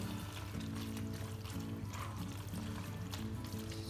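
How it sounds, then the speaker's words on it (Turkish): Water poured into a baking dish of pasta for Turkish baked pasta with béchamel, a soft steady trickle close by with a low background hum, no talking. "şöyle biraz suyunuzdan ilave edeceğim"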